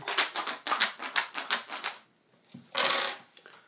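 Five dice rattle rapidly inside a cup, a fast burst of clattering strokes, then a short pause and a final loud shake or tumble, close and crisp.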